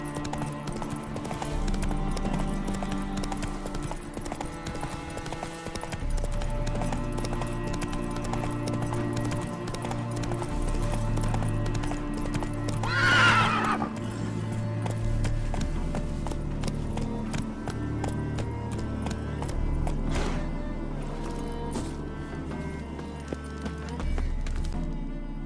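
Roach, Geralt's horse in The Witcher 3, gallops with steady rhythmic hoofbeats and lets out a loud neigh partway through, set against a continuous game music bed.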